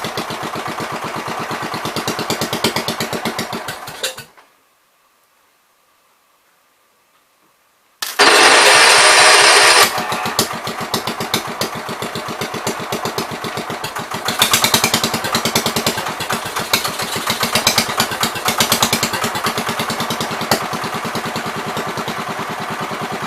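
A 1973 John Deere 110 lawn tractor engine runs loud and close with a steady mechanical chatter, cuts out into silence for a few seconds, then restarts at higher revs and keeps running.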